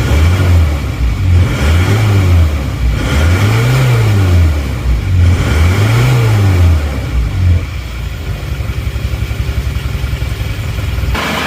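An Isuzu Panther diesel engine with a rough-running condition revs repeatedly, rising and falling in four or five steady swells before settling to a loud, close idle clatter.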